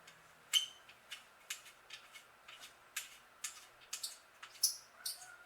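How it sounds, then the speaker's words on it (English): Water bottle screws being unscrewed from a Breezer Midtown 1.7 bicycle frame give off small, sharp squeaks and ticks, spaced irregularly and heard up close in an otherwise quiet space. "you might be able to hear these screws for the water bottle coming out squeaking"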